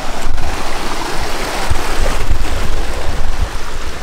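Steady, loud roar of a waterfall reached at the end of a rough dirt track, a dense continuous rush of falling water with gusty low rumble and no voices over it.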